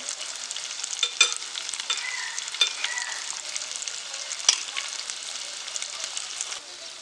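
Paneer balls sizzle in hot oil in a pan, a steady crackling fry broken by occasional scraping clicks of a spoon stirring them, close and fairly loud with no voices.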